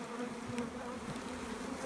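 Honey bees buzz steadily and close at a two-queen hive where weaker colonies are being merged, a low, even drone with no talking.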